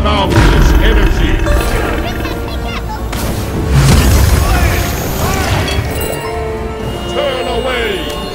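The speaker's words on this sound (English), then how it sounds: "Destroyed a middle enemy tower." A middle enemy tower crumbles in a video game with a loud booming crash and rumbling debris, layered over game music and a narrator-like announcer voice, with a second heavy impact midway.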